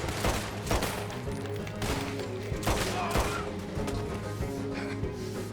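Pistol gunfire in Red Dead Redemption 2, a rapid series of sharp, loud shots with crashing impacts layered over a steady low background rumble, close and continuous.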